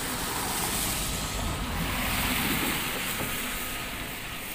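The Kumaradhara river rushes fast beneath a bridge, a dense, loud, continuous roar of water with some wind buffeting, heard alone without talk.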